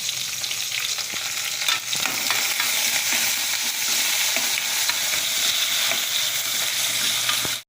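Garlic, ginger and curry leaves frying in hot oil, a loud continuous sizzle with steady stirring scrapes of a spoon in the pan.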